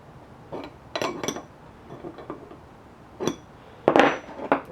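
A 17 mm wrench tightens a bolt on a Schwinn bicycle part, giving several sharp metallic clinks and taps spread across the moment, with quiet gaps between them and no talking.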